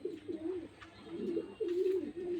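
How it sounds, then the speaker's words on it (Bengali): A pair of racing pigeons coos softly nearby, giving several low, throaty rolling coos in an uneven rhythm, with a short pause midway and no talk over them. "দেখেন কবুতরগুলা"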